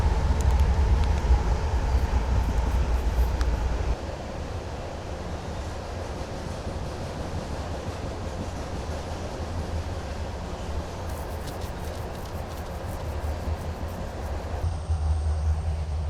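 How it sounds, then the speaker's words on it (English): A train rolls past close by, a steady broadband roar with a deep low rumble that fills the whole stretch and shifts slightly partway through, with no talking over it. "Hold on, train's going by."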